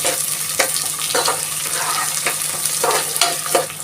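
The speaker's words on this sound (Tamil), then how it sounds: "இந்த நெய்க்குள்ளவே இதை நல்லா வறுக்கணும்." Moong dal sizzles and fries in ghee in a pan, with a spoon scraping and stirring in repeated strokes over a steady crackle.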